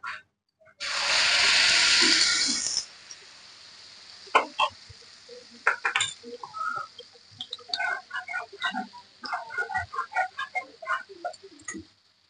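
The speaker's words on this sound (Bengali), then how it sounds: "এবার আমরা এই তেলটা গরম হয়ে গেছে, তেলের মধ্যে এই পেস্টটা দিয়ে ভালো করে ভেজে নেব।" Ginger, garlic and onion paste hits hot oil with a sharp burst of sizzling hiss lasting about two seconds, followed by softer crackles and spatters as it fries, close and without talking.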